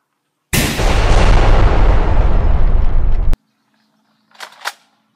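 A gasoline-fuelled explosion erupts in a sudden loud roaring blast that rumbles for about three seconds, then cuts off abruptly, followed by a couple of faint brief sounds.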